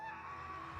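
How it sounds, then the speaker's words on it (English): A distant scream echoing from a hallway in the fantasy role-playing game Pathfinder Kingmaker, a short wavering cry that rings out faintly against a reverberant background. "a scream echoes from the hallway"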